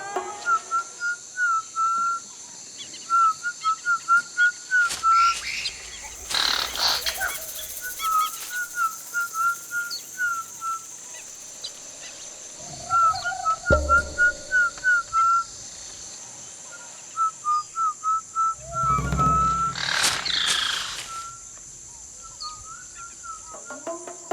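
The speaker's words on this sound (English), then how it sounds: "Piraha can be spoken, hummed, sung, even whistled." Whistled Pirahã language from the Amazon, bursts of high, clear whistled phrases with pauses between them, close and fairly loud, with occasional louder rustling or clatter.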